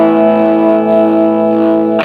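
Distorted electric guitar through a Lekato Pogolab mini amp rings out as one loud, sustained chord that holds steady for about two seconds, then cuts off with a short scrape of the strings.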